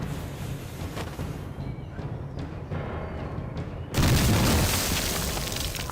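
A hand grenade thrown far in a testing scene from a Chinese anti-Japanese war TV drama bursts with one loud, sudden boom partway through, followed by a rumbling roar that lingers under a low background.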